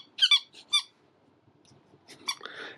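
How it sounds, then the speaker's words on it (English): A squeaker inside a solid rubber creature dog toy gets squeezed, giving two quick squeaks and a third just after, then a few more scratchy squeaks near the end, fairly faint and close. "he's supposed to have a squeaker in him"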